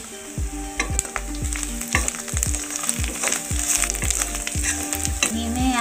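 Ginger garlic paste with Kashmiri red chili powder and turmeric sizzles in a pan over low heat, a steady close frying crackle punctuated by regular scraping stirs.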